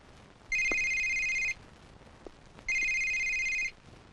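A mobile phone rings with two bright electronic ringtone bursts, each about a second long with a pause between, clear and close over a quiet room.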